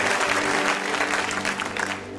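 Church congregation applauds in a loud, sustained wash of clapping and crowd noise that continues steadily throughout.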